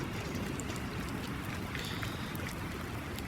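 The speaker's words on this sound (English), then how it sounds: "And it started raining." Steady rain in the Farming Simulator 19 video game, a constant even hiss of falling water without pauses or talk.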